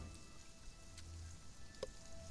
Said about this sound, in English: Black rain on surface.